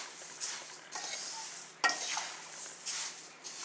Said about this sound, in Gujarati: તો હવે આપણે આ મુખવાસને મિક્સ કરી દઈશું